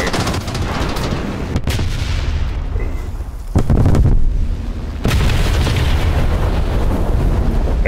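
A bomb explodes against a tank in the War Thunder battle, with loud booming blasts and bursts of gunfire mixed into a constant rumble of combat noise.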